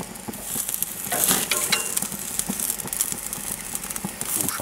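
Wild boar T-bone steak searing fat side down in a pan, a dense, close sizzle with crackling pops and occasional scraping as the meat is shifted.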